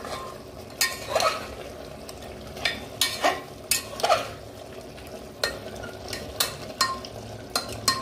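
Mutton curry with Kashmiri chili powder is stirred in a pan over a low sizzle, with a spatula scraping and knocking against the metal in repeated sharp strokes, loud and close.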